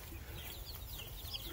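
Live chickens cluck softly in a faint, close, continuous murmur while being fed outdoors, with no talking.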